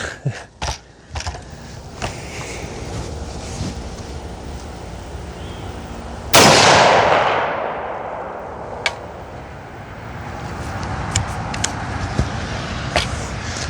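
A 50 Beowulf rifle fired at a target at about 100 meters, with a few sharp clicks and knocks of handling, then one loud, close blast that booms and decays over several seconds outdoors.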